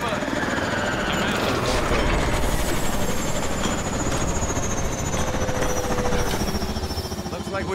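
Warbird aircraft engine in the video game Call of Duty: Advanced Warfare, a loud continuous rotor-like roar and whine with a rapid pulsing texture, steady from start to finish amid battle noise.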